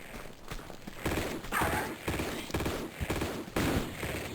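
Enemy gunfire in the video game Tomb Raider II cracks out in a series of sharp bursts, several shots spaced irregularly over a few seconds at moderate loudness, with no speech.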